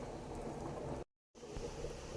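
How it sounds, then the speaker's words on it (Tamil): A pot of fish curry bubbles at a steady low simmer, soft and continuous, broken by a brief moment of silence before the bubbling resumes. "நல்லா கொதிக்கிட்டும் மூடி போட்டுக்கலாம்"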